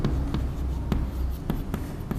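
A marker or chalk taps and scratches on a classroom board during a math lesson, making sharp intermittent strokes in an irregular rhythm over a faint low background.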